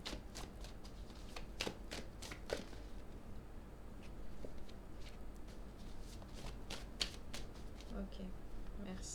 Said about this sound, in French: on va tirer 2 cartes